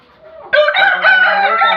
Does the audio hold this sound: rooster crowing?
yes